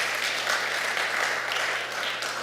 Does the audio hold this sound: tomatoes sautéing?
no